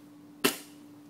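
A single firework bang goes off in a garden, one sharp crack with a short decaying tail, fairly close and standing alone against a quiet background with a steady low hum.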